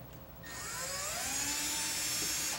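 A power drill whirs as it drives screws out of a vintage Commodore 64SX computer, a single close, steady high-pitched whine that spins up quickly and holds.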